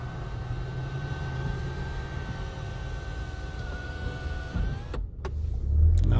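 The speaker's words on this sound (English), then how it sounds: "but let's close the sunroof" Sunroof closing on a 2019 Toyota RAV4 with a roof rack: a steady electric motor whine under road and wind noise inside the moving car, ending in a brief thump as the wind roar drops.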